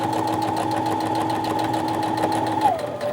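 Sewing machine running steadily as it stitches slowly over an already-sewn fabric seam on a small drawstring backpack, a continuous close mechanical whir with even needle rhythm, dipping slightly in pitch near the end.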